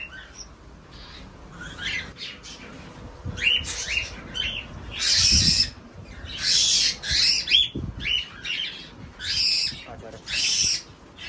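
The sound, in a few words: cockatiel birds and chicks in cage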